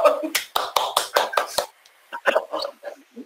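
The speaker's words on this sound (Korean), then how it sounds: "누가 박수 친겨?" A few people clap hands during an online class, about six sharp claps in a quick burst, then voices talking and laughing.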